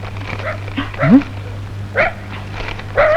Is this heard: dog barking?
yes